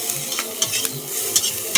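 Bitter gourd slices frying in a wok on the stove, stirred with a metal spatula: a steady close sizzle with sharp scraping strokes of the spatula against the pan at irregular intervals, and no talking.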